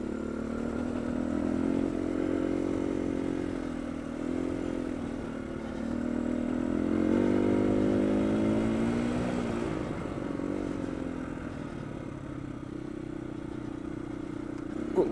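On a trail in Wales, an off-road motorcycle rides along with a steady engine drone that swells and eases as the throttle rises and drops, close up, with light clatter from the terrain.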